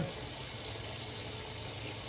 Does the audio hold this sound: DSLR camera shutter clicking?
no